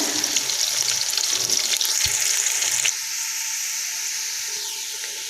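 Sliced onions frying and sizzling in a pan while being gently stirred with a spoon for a Punjabi chana dal khichdi, a loud steady hiss that drops to a quieter sizzle partway through.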